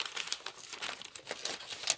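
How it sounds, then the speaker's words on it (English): Backing paper is peeled off rainbow appliqué fabric, giving soft crinkling and tearing rustles up close. "We're going to peel off the backing."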